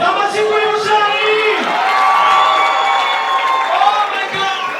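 A comedy show audience in Rwanda cheers and claps loudly, with excited shouts and whoops rising over a voice that is talking.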